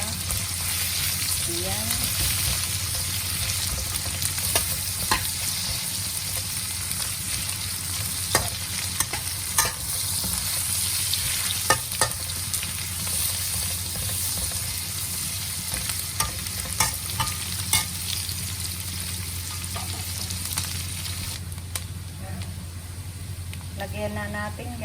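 Ginger sautéing in a pan for alugbati soup, a continuous bright frying hiss with occasional spoon scrapes and taps, a voice speaking briefly over it.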